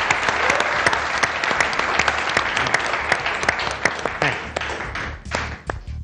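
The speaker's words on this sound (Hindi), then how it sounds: "तालियां बजाइए इन दोनों के।" A studio audience at the Haarna Mana Hay game show claps steadily as two guests are welcomed onto the stage, a thick, close wash of applause that tapers slightly near the end.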